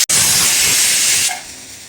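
A loud burst of sizzling as jakhiya seeds hit hot oil for a tempering, a steady bright hiss that fades and softens after about a second.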